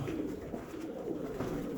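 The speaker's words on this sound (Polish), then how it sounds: "Latają, grukają." Domestic pigeons cooing softly and continuously inside a loft, a low steady murmur of several birds close by with no talk over it.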